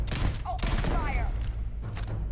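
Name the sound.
gunfire in the video game Starfield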